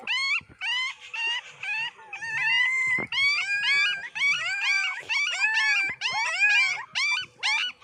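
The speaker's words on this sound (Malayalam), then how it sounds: "ഇയാളാണ് ഭയങ്കരമായിട്ട് കരയുന്നത്" A puppy cries and whimpers continuously in high, wavering wails and short yelps, close and insistent, with no talking.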